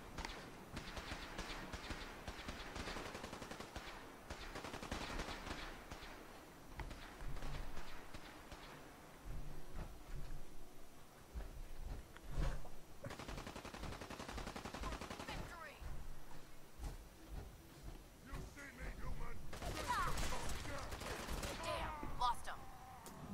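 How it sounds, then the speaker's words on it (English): Laser rifle fire in a Fallout 4 firefight, a steady stream of rapid shots with volleys that keep going and grow denser near the end, heard under ongoing gameplay noise with a voice talking. "Somebody with a laser rifle is fighting."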